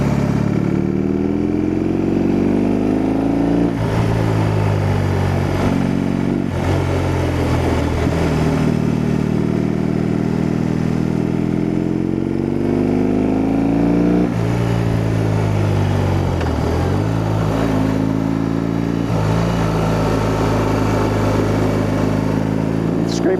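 BMW R18 Transcontinental motorcycle riding through the Rocky Mountains, a loud continuous engine drone with rises and falls in revs and wind rush, heard up close from the rider's seat.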